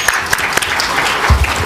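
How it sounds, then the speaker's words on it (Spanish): Audience applause at a conference on numismatics and jewellery, a dense burst of clapping from a seated crowd that holds steady and loud through the clip, with no voices over it. "te despedimos con un aplauso"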